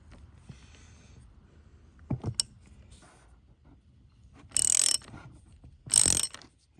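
A ratchet gives a slight tightening to a terminal on the auxiliary battery of a Chrysler Pacifica. Quiet handling noises come first, then two loud, close bursts of rapid ratchet clicking.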